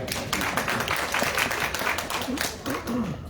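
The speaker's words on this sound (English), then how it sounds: "One more round of applause for Margot." An audience at a history presentation applauds steadily for a few seconds, a moderate, dense patter of many hands with a voice faintly heard near the end.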